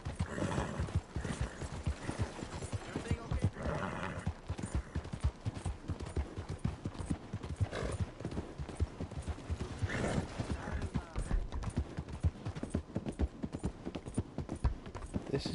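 Steady clip-clopping hooves with occasional horse whinnies, continuous and fairly close, layered over game-like background noise.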